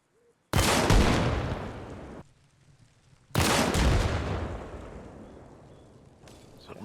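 An RPG-22 launcher firing in Arma Reforger, two loud booming blasts a few seconds apart, each trailing off in a long rumbling echo.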